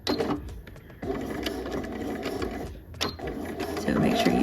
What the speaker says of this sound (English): I'm just gonna keep my presser foot lined up with that seam all the way around. And we're just gonna stitch